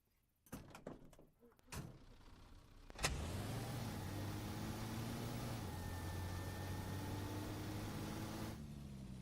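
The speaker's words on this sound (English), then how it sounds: "I'm gonna move the repair truck back." A repair truck in a tank combat video game starts up after a few clunks and door-like thuds, then its engine drones steadily, close and constant, to the end with no speech over it.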